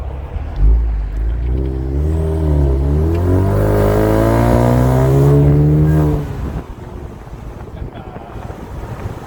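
A 2020 Ford Mustang EcoBoost Convertible engine revs up while driving with a rising, harmonic roar for several seconds, then drops back to low road and wind rumble.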